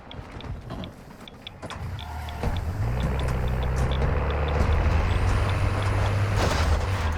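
A car engine in the video game Call of Duty DMZ hums steadily and rises into a sustained drone as the vehicle drives off, loud and continuous with no talk.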